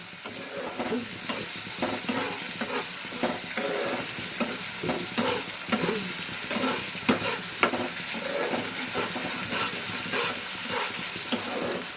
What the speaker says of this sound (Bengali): আদা রসুনের পেস্টটা এর সঙ্গে দিয়ে দেবে। এটাকেও এর সঙ্গে ভালো করে নেড়ে নিতে হবে, বেশ ভালো করে কষে নিতে হবে।